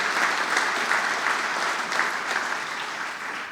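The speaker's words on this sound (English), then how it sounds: "please give him a warm applause for that moment" A crowd gives warm, sustained applause at a cruise line's 150th anniversary commemorative ceremony, a thick continuous roar of many hands clapping that holds steady and eases slightly toward the end.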